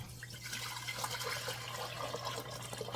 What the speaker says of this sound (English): Now we want to take a bowl and pour broth back in the pot